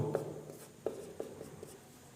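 Hand writing during a polynomial maths lesson: a few short, faint scratching strokes at irregular intervals against a quiet room.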